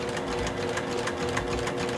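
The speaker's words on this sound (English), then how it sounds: "I'm gonna go ahead and sew right on that line that we have made." A sewing machine stitches quilt fabric with a fast, steady mechanical whirring and rapid rhythmic needle clatter, close and constant throughout.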